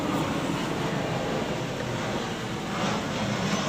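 A car engine runs steadily during a fan belt and tensioner check, producing a broad continuous rumble and hiss with no distinct squeal, close and constant.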